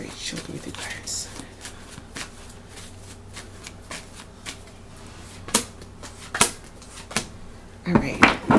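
Playing cards are shuffled for a card reading, a close papery riffle with a run of sharp snaps and flicks growing more frequent toward the end, with speech around it.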